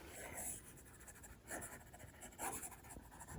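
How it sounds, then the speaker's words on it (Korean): Stylus scratching across an iPad mini 6 fitted with a paper-texture screen protector, giving a dry, papery scritch in several close bursts of strokes with brief pauses between them. "신기하게 종이랑 연필 느낌이 나고 있습니다. 사각사각거리는 소리도 나고요."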